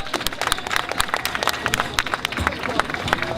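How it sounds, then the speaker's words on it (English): A crowd at a Vietnamese community candlelight vigil in Little Saigon, Westminster, applauds with dense, loud clapping that carries through the whole short stretch, with crowd voices mixed in. "please give your round of applause to Gabriel Law"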